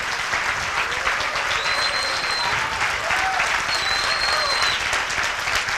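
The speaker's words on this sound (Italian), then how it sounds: "c'è Carla Ruocco, facciamo un applauso." Sustained applause from an audience at a political gathering in Siena with Five Star Movement parliamentarians, a thick even roar of clapping that holds steady throughout, with a few whistles rising over it.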